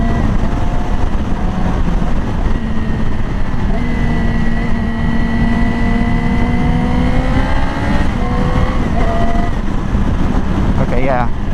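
A modified Yamaha R6 sport motorcycle engine runs loud and close, rising in pitch through several revs as the new clutch is tested, with wind buffeting the microphone.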